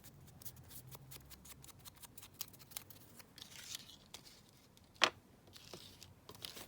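Scissors snip through paper while making a collage board at a desk, with soft rustling and handling noises and one sharper close snip standing out.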